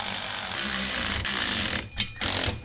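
A ratchet with a 5/8 inch socket tightens axle nuts on a rear axle rebuild of a 3rd generation Toyota 4Runner, giving a steady run of close, rapid clicking that breaks off briefly near the end before resuming.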